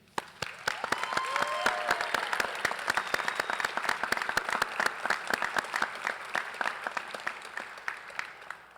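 Sustained applause from a seated crowd at the 114th Greensboro Police Academy graduation ceremony fills the room, dense and steady, tapering slightly toward the end.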